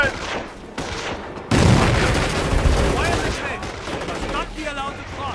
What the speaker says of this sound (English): Hand grenades!